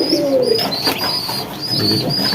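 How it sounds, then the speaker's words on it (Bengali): Pigeons kept in a loft, including black, silver and white lakka birds, coo close by with soft, repeated throaty calls, and faint chirps and rustling sound in the background. "এই কারণে সম্ভবত কবুতরগুলোকে আলাদা করে রাখার কবুতরগুলোকে আমি আপনাকে দেখাই"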